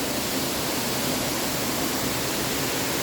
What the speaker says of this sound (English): Whoa, a nice waterfall, hey?